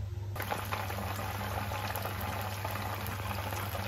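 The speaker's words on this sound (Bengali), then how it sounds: "একদম কম আঁচে মাছটা ভাজতে হবে।" Dory fish frying gently in a pan over low heat, a steady soft bubbling hiss running evenly and close throughout with a low hum underneath.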